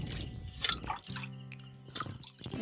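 Soaked tamarind is squeezed and stirred into water for panipuri, producing close, wet squelching and sloshing with light drips.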